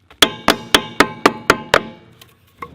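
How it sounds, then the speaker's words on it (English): A hammer bangs on a frozen generator during an off-grid Alaskan winter: seven sharp, evenly spaced metallic blows in quick succession, loud and close, followed by a softer knock after a short pause. "beat it with a hammer and put some heat on it"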